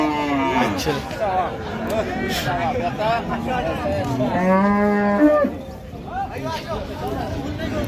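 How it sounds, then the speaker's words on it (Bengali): At a cattle market in Raniganj, cows and calves let out several loud, drawn-out moos close by, amid a steady hubbub of chatter and people talking. "গাভী বাছুর আমরা দেখছিলাম এখানে,"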